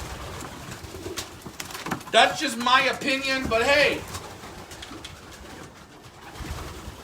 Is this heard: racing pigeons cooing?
yes